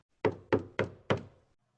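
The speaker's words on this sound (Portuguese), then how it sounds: "Nicodemos bate na porta." Four firm knocks on the door of a simple house, evenly spaced and close, each a sharp hollow thud with a short decay, followed by silence.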